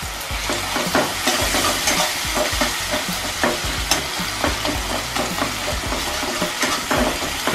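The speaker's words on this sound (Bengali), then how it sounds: "এবার একটু রসুন কুচি দিয়ে দিচ্ছি।" Chopped garlic sizzles loudly in a frying pan of hot oil for a Bengali rohu fish curry, with a constant close crackle and a spoon scraping and stirring at a steady pace.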